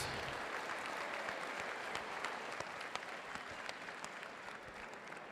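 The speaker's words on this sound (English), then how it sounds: "some applause for these amazing athletes" An arena audience applauds Muay Thai fighters after a bout, before the judges' decision, with dense, sustained clapping that fills the whole stretch at moderate distance, with no voices standing out.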